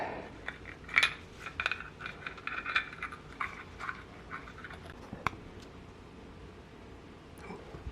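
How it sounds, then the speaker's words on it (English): Metal clicks and taps from a brake caliper piston being pushed back into a 2014 Suzuki GSXR 750 front caliper, several sharp ticks clustered early, then sparser faint knocks, close up with no talking. "we're going to try to put that piston back in and hold it"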